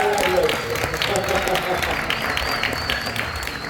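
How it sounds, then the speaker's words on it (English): Audience at a bar show applauding, a continuous crowd of clapping hands with a voice speaking over it. "Can you give a round of applause to our"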